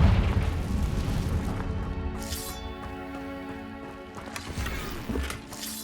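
Confringo spell blasts in Hogwarts Legacy: a deep, rumbling boom fading out, then a second, sharper burst near the end.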